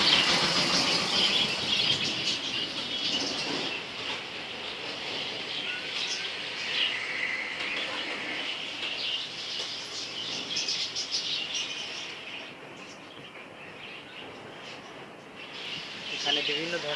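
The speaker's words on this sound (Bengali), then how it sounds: "এখানে বিভিন্ন ধরনের কবুতর এবং পাখির ব্রিড পাওয়া যায়" Pigeons and assorted caged birds in a bird shop chirp, tweet and flutter their wings continuously, a busy, close chorus.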